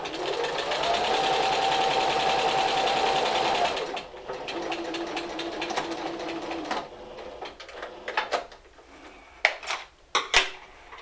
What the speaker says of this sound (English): we're going to sew in a 3/8 inch seam from one end to the other